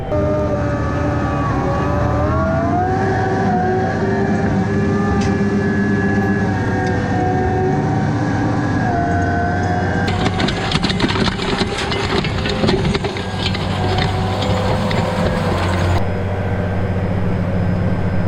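A tractor runs steadily while tilling a seedbed at an angle, its engine a continuous loud mechanical drone with a rattling, clattering layer that thickens partway through.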